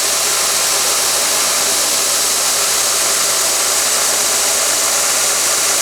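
A homemade 2x48 belt sander runs steadily on a test, giving off a continuous broadband whir and hiss at even loudness throughout, with no talking.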